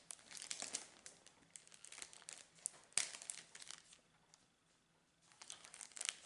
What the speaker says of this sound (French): Je me suis pris des petits sacs en papier comme ça.